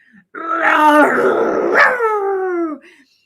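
A dog barks and growls in a close, loud, drawn-out burst lasting a few seconds, with a howling, whining tone, used as a sound effect in a children's story about a dog fighting a snake.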